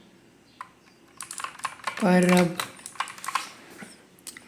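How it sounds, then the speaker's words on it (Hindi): Keys on a faulty Redgear Shadow Blade mechanical keyboard, which registers several keys from one press, click in quick irregular bursts close up, with a brief tonal beep in the middle and someone talking. "देखो कितने सारे कीज़ दब रहे एक की दबाने पे"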